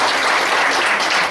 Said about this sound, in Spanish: Démosle un aplauso al Señor y vamos a orar.